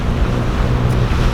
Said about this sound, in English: as you can hear we are going by engine